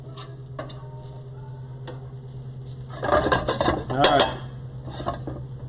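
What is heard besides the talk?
deglazing a pan and scraping up caramelized mushrooms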